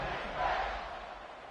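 A stadium crowd in the College Football 26 video game roars after a Western Kentucky scoring drive against New Mexico State, a loud sustained wash of cheering that swells briefly and then holds steady, with no talk over it.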